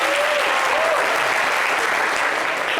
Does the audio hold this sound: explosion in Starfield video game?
no